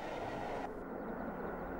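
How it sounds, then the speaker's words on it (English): A King Edward I class steam locomotive slows to a standstill, heard as a steady low rumble and rolling rail noise from the train, fairly faint and continuous. "The old technology steam engine comes to a standstill"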